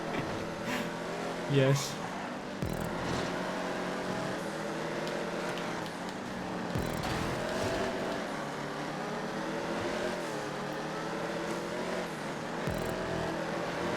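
A GP2 race car engine in GTA 5 drones continuously at a high pitch, rising and falling as it revs through the race, with a voice talking briefly over it.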